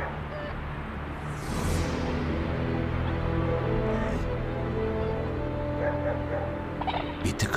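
Poultry clucking and squawking nearby amid a busy farmyard din, with a flurry of wingbeats or rustling near the end.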